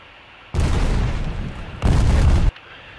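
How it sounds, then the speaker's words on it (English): In a video game, a bomb explodes and destroys an enemy base, two loud, heavy booming blasts with a short dip between them before cutting off. "I think my bomb should hit"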